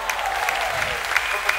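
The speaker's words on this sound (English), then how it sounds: "clap your hands together for Jesus" Church congregation claps hands together in a brief burst of quick, uneven clapping close by, with singing or talk carrying underneath.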